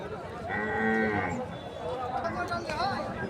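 Cattle mooing at a busy cattle market in Alamdanga, with one long close moo rising over steady crowd chatter and people talking nearby.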